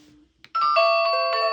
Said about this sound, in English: Ring the video doorbell. You'll hear one beep.